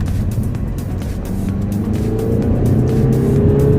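A Mercedes CLA 220d diesel engine is held in manual third gear under acceleration while it has an engine fault and limp mode. The drone is loud and steady, with the engine note rising gradually toward the end, and nobody speaks.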